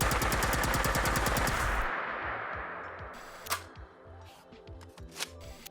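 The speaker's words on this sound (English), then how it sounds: "What we have here is a fully automatic version of the Plasmacaster" A fully automatic Plasmacaster energy weapon in the video game Fallout 4 fires a loud, rapid, even burst that cuts off, followed by scattered mechanical clicks and clanks of the weapon handling.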